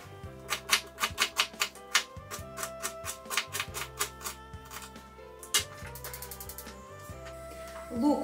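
Rapid, evenly spaced knife chops on a cutting board as an onion is cut, coming in quick bursts with short pauses, set over steady background music.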